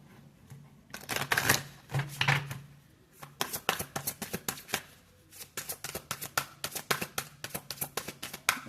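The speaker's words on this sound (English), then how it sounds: "I'm going to shuffle the deck and see what shows up." A deck of cards being shuffled by hand, with a couple of longer riffling bursts followed by a fast series of crisp, rhythmic flicks, close and fairly quiet.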